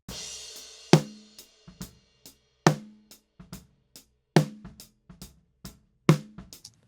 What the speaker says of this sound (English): Like, for example, listen to this snare drum.